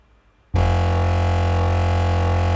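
Quiet low hum, then a loud, heavily distorted sustained synth note kicks in, thick and buzzing with gritty, consistent high-frequency fuzz, holding steady to the end.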